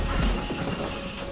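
Train cars being shunted in the Derail Valley railway game, heavy low rumbling and clanking of wagons with a steady metallic squeal ringing over the top.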